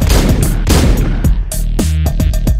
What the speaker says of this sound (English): let me just shoot this guy